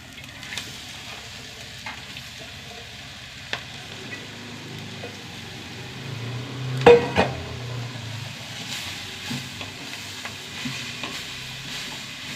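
Fresh spinach frying in a pan with chili powder and a pinch of turmeric, a low steady sizzle with occasional utensil stirring clinks and a brief louder clatter midway.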